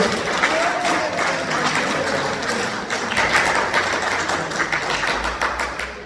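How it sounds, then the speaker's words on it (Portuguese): Congregation at a Sunday church service clapping hands in praise, a sustained, fairly loud patter of many claps with some voices mixed in underneath. "Louva o Senhor com palmas que glorificam o nome do Senhor Jesus."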